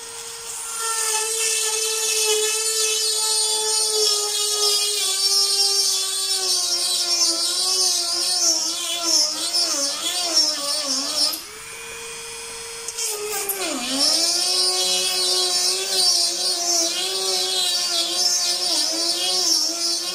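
Handheld drill boring holes into stone, the stone heating where it is drilled; a loud sustained high whine that wavers in pitch, briefly dropping out and dipping before resuming steadily.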